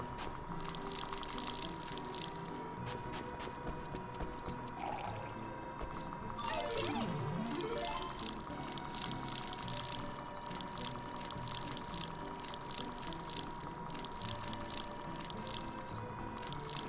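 In Rune Factory 4, a watering can pours water in a steady splashing stream, with a sliding tone and light game music running underneath.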